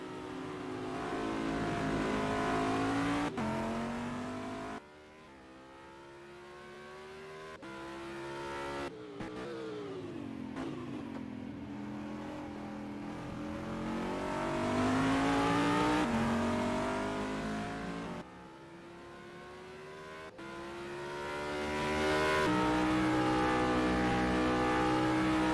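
Race cars on the final lap of the Daytona 6 Hours, engines revving loud and continuous, pitch rising and falling as they accelerate and shift, with brief cuts and a car passing by close.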